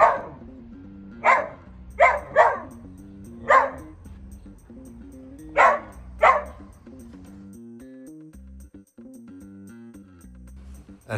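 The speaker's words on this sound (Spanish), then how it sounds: "Aquí tenemos otro ejemplo de ladridos de demanda de atención, de juego" A whippet barks for attention and play, eight sharp barks in uneven bursts over several seconds, close and clear, followed by quieter whining and shuffling.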